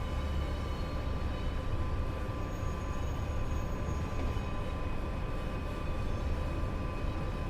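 Steady rumbling drone of a Class 86 electric locomotive running on the East Coast Main Line in Train Sim World 5, an even low roar with faint tonal whine and no distinct clanks.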